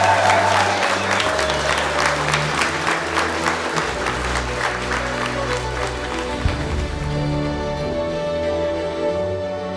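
Wedding guests at Clevedon Hall applaud the newly married couple after the ceremony, with loud sustained clapping from a crowd that tapers slightly over ten seconds, joined by a low murmur.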